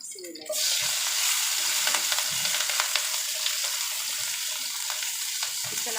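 Chili sautéing in a pan while fish is cooked, a steady loud sizzle filling the whole clip with occasional stirring scrapes, no talking.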